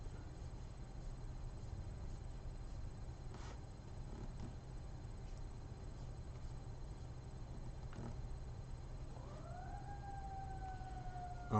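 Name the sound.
fire engine sirens in the background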